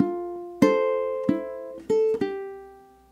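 A ukulele plays a phrase of ragtime, Scott Joplin's The Entertainer, as a few cleanly plucked notes and chords that ring out and decay in a loose, halting rhythm, close and alone.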